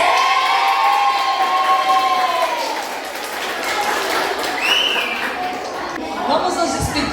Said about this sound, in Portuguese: Quem quer? Palmas.